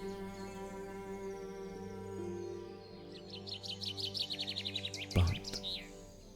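Birds chirping in the VRChat game world, a rapid series of bright tweets rising over a steady tonal ambient background, with a short thump near the end and a brief spoken word.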